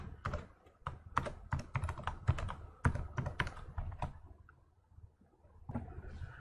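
Computer keyboard typing a node name during Houdini software work, a run of quick, close key clicks with a brief pause near the end before a few more strokes, no talk.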